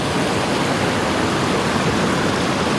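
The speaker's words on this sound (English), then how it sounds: "Cool waterfall" A waterfall in Washington State roars in a steady, dense rush, loud and close and unbroken, with no voices over it.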